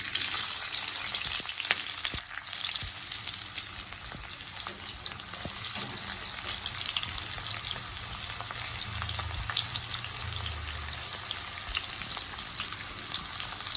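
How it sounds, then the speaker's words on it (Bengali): Cumin seeds and raw onion fry in hot oil, a dense continuous close sizzle with occasional stirring clicks throughout. "এর মধ্যে আমি জিরে ফোড়ন দিয়ে দিচ্ছি। এর মধ্যে এক এক করে কাঁচা পেঁয়াজ"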